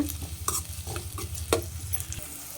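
Chopped onions and green chillies for a cabbage curry frying in oil, a steady low sizzle broken by several quick scrapes and taps of a spatula stirring the pan close by.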